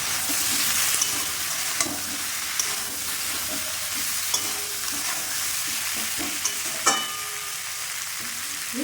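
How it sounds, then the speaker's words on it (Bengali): A pan of Bengali rohu-style bata fish curry with turmeric sizzles steadily while being stirred, with scraping knocks of the spoon at irregular intervals and a louder clatter near the end, no talking. "গুঁড়ো হলুদ দিয়ে দিলাম, নেড়ে দিলাম।"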